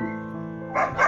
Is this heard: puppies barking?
yes